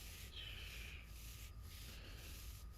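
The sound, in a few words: hand rubbing a child's back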